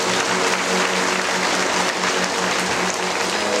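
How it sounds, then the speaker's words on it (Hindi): Congregation clapping at a Sunday church blessing meeting, a loud continuous patter of many hands held at an even level throughout, with no clear speech over it. "तालियां बजाना है कि नहीं?"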